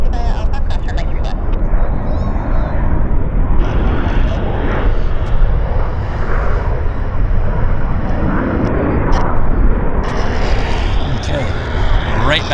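Airplanes at Vancouver YVR airport: a loud, steady jet engine roar throughout, with people talking over it.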